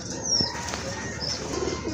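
Pigeons kept for sale give soft cooing calls amid a busy background with a few sharp chirps and faint wing sounds, fairly close.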